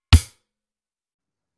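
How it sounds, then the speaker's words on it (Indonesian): A kick drum and crash cymbal struck together on a real drum kit in a single loud, short hit with a low thump and a bright splash that dies away quickly into silence. "ketuk secara bersamaan kick dan crash."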